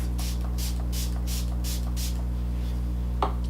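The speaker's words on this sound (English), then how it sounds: "I'm going to spray my beauty blender with Fix Plus" Rapid, evenly spaced hissing spritzes of Fix Plus setting spray onto a makeup sponge, about a dozen in quick rhythm, over a steady low electrical hum.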